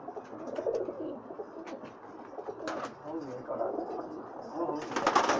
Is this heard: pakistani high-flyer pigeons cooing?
yes